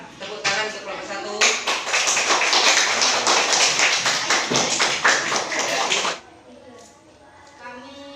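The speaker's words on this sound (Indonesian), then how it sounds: "Tepuk tangan untuk kelompok 1." A classroom breaks into loud, dense clapping for the first student group, many hands at once for about five seconds before it cuts off sharply, followed by a quieter stretch with a voice speaking.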